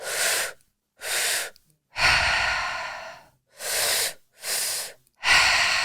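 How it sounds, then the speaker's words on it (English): Breathing in a repeating pattern: two quick, sharp inhales followed by one longer exhale, heard twice, close and clear with silence between. "2 inhales in with 1 exhale out"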